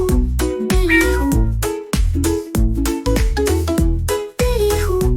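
Repeated cat meows, bright and tuneful, over a bouncy musical backing in a Hindi-Urdu children's song about a cat; the meows may be sung or imitated.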